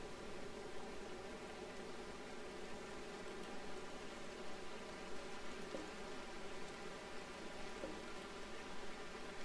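Steady rain falls in the RimWorld video game, a dense even hiss of pattering drops that holds constant throughout with no voices.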